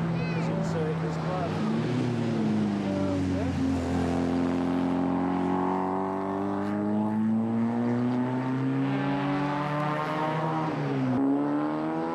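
Fiat racing cars brake into and power out of the Mallory Park hairpin in 1997 BRSCC racing, engines droning and rising in pitch as they accelerate away, loud and continuous, with a commentator talking over them.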